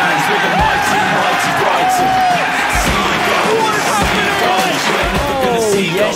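A football crowd at a Europa League match between Brighton and AEK Athens roars and chants in a dense, continuous wall of voices, with whoops and shouts rising above the din throughout.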